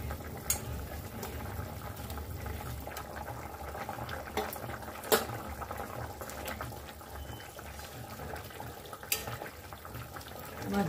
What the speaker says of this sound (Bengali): মাছগুলো দিয়ে একটু ফুটিয়ে নামিয়ে নেব।